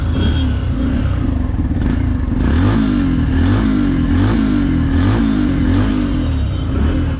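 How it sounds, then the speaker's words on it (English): A 2021 Yamaha FZ-X motorcycle engine rumbles loudly and continuously close by, with a deep throbbing exhaust. The revs rise and fall in repeated gentle surges. "let's hop on and let's hear the exhaust note"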